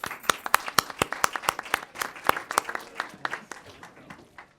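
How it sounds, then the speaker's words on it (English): Audience applause for award winners at a city council meeting, a dense patter of many hands clapping steadily for several seconds before thinning out slightly at the end. "Let's give all the award winners another round of applause."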